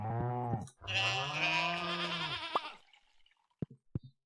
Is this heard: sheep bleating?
yes